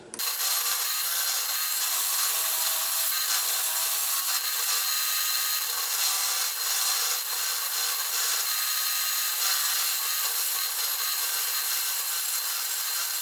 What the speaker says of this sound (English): The belt sander will make a quick job of these details.